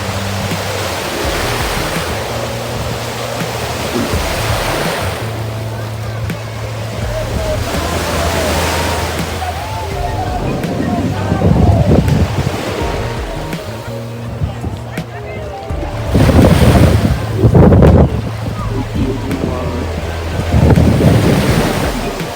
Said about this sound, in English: The beach is beautiful.